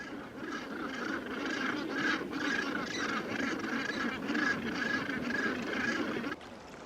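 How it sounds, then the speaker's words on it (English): Gannets call over a seabird rookery in a steady, dense chorus of harsh, honking cries that continues throughout and then drops away abruptly just before the end. "Nearby, gannets soar on long, narrow wings above an inaccessible rookery."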